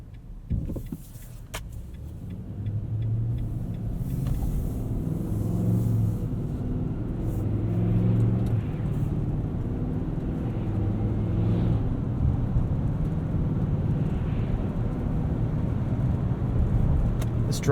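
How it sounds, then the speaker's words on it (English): A 2020 Nissan Titan Pro-4X crew cab's V8 engine gives a steady, low, smooth rumble from inside the cabin while driving, with a faint hum and no talking. "This drivetrain is very smooth, pretty quiet, has a nice low V8 rumble in the background"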